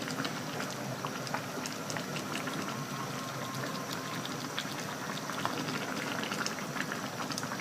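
Pork kaldereta stew bubbling in a pot at a steady simmer, with a soft continuous crackle of popping bubbles and liquid gurgling heard close up, fairly quiet, with no talking.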